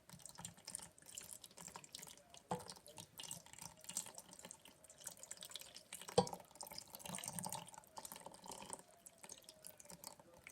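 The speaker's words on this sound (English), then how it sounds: "So I'm going to pour it over this apple nice and slow." Water poured slowly over an apple, giving a faint, soft trickle with scattered light drips off the fruit, quiet and steady with no talking.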